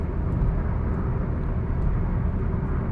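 Steady, loud low rumble of road noise inside a car cabin at 90 km/h, driven 55,000 km on worn tyres with little tread left, a continuous drone with no talk over it.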